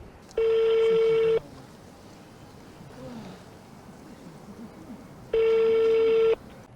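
A telephone rings unanswered, two loud, steady electronic ring bursts of about a second each, separated by several seconds of quiet room noise.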